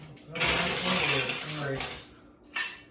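Ice cubes dropped into a cocktail mixing glass, a loud clattering rush of rattling cubes followed by a brief knock near the end, close and busy.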